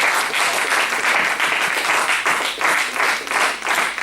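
A church congregation applauds loudly, dense sustained clapping from many hands with a slight pulsing rhythm, filling the room without pause.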